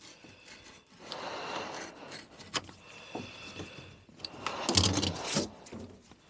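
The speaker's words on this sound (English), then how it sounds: "we'll cut that with a knife" A knife cuts and scrapes through new carpet inside a Jaguar XJC interior, giving faint, irregular slicing and rustling sounds with a sharper burst near the end.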